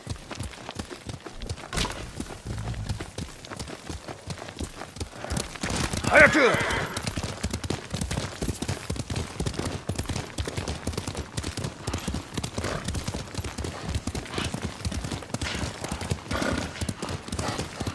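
A horse ridden in the video game Ghost of Tsushima clip-clops with a steady, continuous hoofbeat rhythm throughout, while characters talk over it and a brief shout and whinny-like burst rise briefly in the middle.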